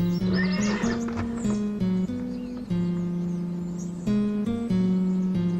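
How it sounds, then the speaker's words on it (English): Several horses ploughing a field whinny and neigh repeatedly, loud and close, with hooves clip-clopping beneath the calls throughout. "They looked at Little Klaus ploughing with his 5 horses"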